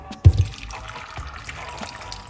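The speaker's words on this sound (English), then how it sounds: "So we're gonna put some water," About a cup of water is poured into a blender holding drink ingredients, a brief splash at the start, then a soft trickle close by.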